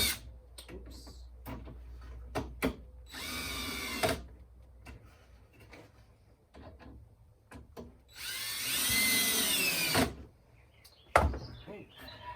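Cordless power drill driving screws into a Flow Hive 2 leg kit during assembly, with two distinct multi-second whirring bursts that rise in pitch, separated by scattered clicks, knocks and handling clatter close by.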